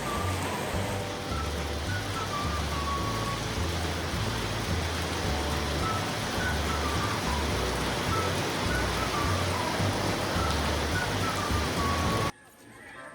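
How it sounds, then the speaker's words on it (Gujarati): A heavy rain downpour near Tulsi Shyam in Gir hisses steadily as a dense, constant roar, with a low rumble underneath and no talking, until it suddenly cuts away near the end. "પણ વરસાદ થઈ ગયો છે જોરદાર શરૂ"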